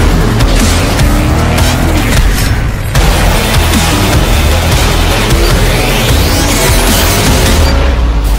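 Race cars roar in the mobile racing game Asphalt Street Storm Racing, a loud continuous engine drone with rising pitch sweeps, booming hits and tire noise, no talking.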